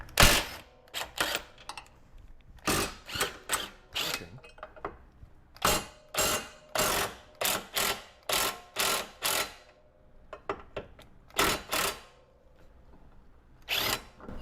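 A hand ratchet works loose torqued control arm bracket bolts on a 2014 Subaru XV Crosstrek, giving repeated bursts of rapid clicking strokes with short pauses between them, close and fairly loud, with no talk.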